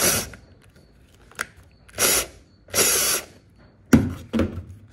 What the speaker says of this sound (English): I've got my drill here with my countersink bit